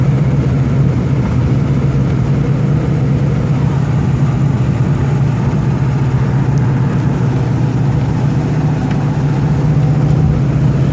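A 1971 Dodge Super Bee's engine drones steadily and loud throughout a test drive, a continuous low-pitched rumble as the second carburetor comes in through the throttle linkage, with no voices present.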